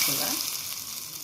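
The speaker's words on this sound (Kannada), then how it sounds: "ಇವಾಗ ಸಾಸಿವೆ ಒಗ್ಗರಣೆ ಹಾಕೋಣ" Mustard seeds crackle and sizzle in hot oil as a tempering for coconut chutney, a short, steady, close frying hiss.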